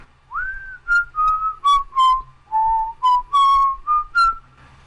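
A person whistles a wandering, melodic tune while drawing, a string of clear, close notes with short gaps between phrases, alone with no talk.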